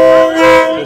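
A train passing through a crowded street market sounds a loud, sustained horn close by, a steady layered tone held for about a second with little else audible.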